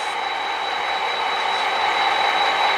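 Model train boxcar rolling out of a rail yard, a steady close mechanical rumble and hiss with a constant high whine, no voices.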